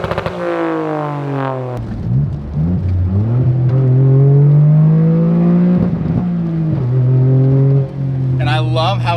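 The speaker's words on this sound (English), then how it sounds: "it just sounds like a straight up rally car" Toyota rally car engine revving hard with the exhaust open, a loud rising and falling wail that climbs, holds a high drone, then dips and climbs again, with brief talk underneath.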